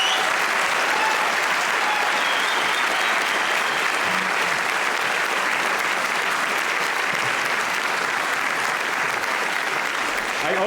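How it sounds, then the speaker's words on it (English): Sustained, dense applause from a conference audience at the close of a talk on vectors, pixels, plotters and public participation at KIKK24, loud and steady throughout with no break. "Thanks a lot for all the applause."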